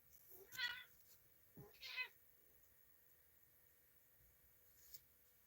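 A house cat meows twice, close and clear, two short plaintive calls about a second apart, followed by quiet room tone and a faint click.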